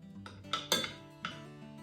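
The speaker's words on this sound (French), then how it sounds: "Je fais tomber mes cuillères" Spoons dropped while cooking Thai marinated chicken, clattering and clinking in a few bright metallic hits close by, with quiet gaps between them.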